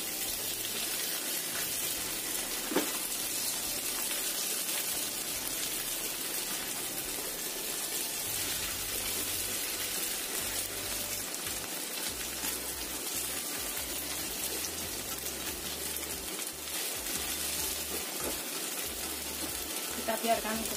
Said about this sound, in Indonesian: kita goreng sampai bawahnya itu agak kering kayak gini